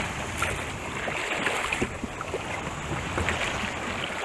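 Ocean surf rushes and breaks around a kayak near the shore off Florida, a dense continuous wash of churning water with wind noise and occasional splashes, loud and close.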